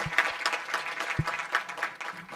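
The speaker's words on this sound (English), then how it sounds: "I think they deserve another round of applause." Audience at the Second Elijah Barayi Memorial Lecture applauds the University of Johannesburg choir with steady, dense clapping that stays moderately loud throughout, with a few low thumps mixed in.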